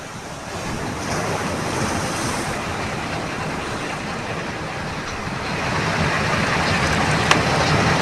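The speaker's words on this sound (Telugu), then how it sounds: "ఏగసి పడుతున్న అలలతో సముద్రం అంతకంతకీ ముందుకు దూసుకొస్తోంది" Rough surf from Cyclone Montha roars continuously close by, waves breaking and churning under strong wind buffeting the microphone, with no voices.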